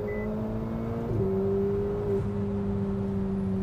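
A 2016 Ferrari 488 Spider engine pulling steadily, its tone stepping up briefly near the one-second mark, heard close and alone with no talk.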